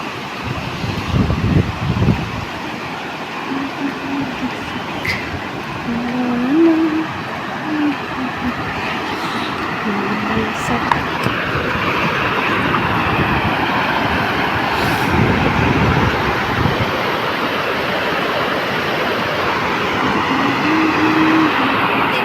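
A swollen river rushes after rising water pours down from the fields above, a loud, continuous roar of churning water with no break.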